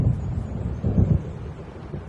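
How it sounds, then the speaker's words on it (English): Low rumbling thunder rolls in from a storm approaching over open water in the video game Alan Wake, a broad, distant swell building and fading with wind noise and no talk. "It seems there's a storm coming."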